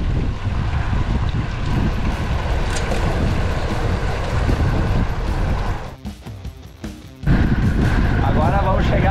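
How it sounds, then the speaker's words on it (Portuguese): Strong crosswind roars and buffets the microphone on a 65 km road cycling ride, a loud, continuous rumble that dips briefly near the end before surging back. "Tá um vento cruzado por enquanto,"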